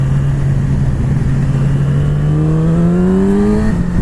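A 2020 Yamaha R6 motorcycle engine at steady speed with the throttle rolled on and off, a loud continuous drone whose pitch gradually rises, with wind rush and no talking.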